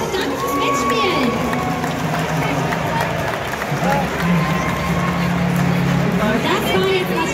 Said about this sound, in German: nochmal großen Applaus und danke fürs Mitspielen